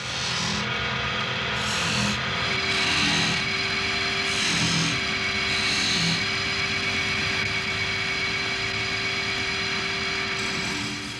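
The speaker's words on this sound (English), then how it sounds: "The gouges must also be presented to the timber, so they are cutting the wood efficiently, throwing off good shavings." A wood lathe turning timber while a gouge cuts it into spinning-wheel parts, giving a steady motor hum with a scraping, rubbing cut that swells and eases in repeated passes and no talking.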